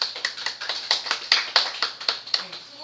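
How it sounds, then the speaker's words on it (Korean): Applause from an audience at the close of a front-end development project presentation session, about a dozen evenly spaced sharp bursts of clapping over a few seconds, fairly close and steady, with no talking. "각자 박수를"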